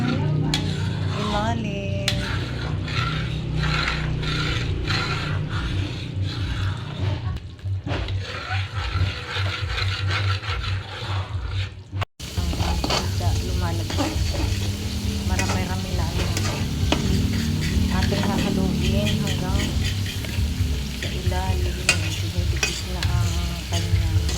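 Coconut milk being stirred in a pan as it cooks down into coconut oil, a steady scraping stir over a continuous sizzle and bubbling frying sound throughout, close and fairly loud, with a brief pause midway.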